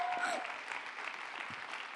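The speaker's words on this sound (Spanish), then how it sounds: "Denles aplauso a nuestro Dios" An audience at a church youth group meeting claps together in a steady round of applause that holds at an even level throughout, with faint voices mixed underneath.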